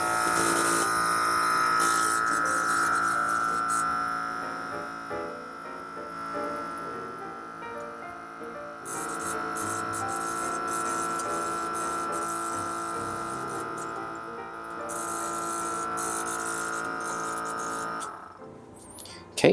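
A laboratory vacuum pump runs steadily through vacuum filtration of acetanilide crystals, a continuous tonal hum with a whining buzz, fairly loud and alone, cutting off near the end.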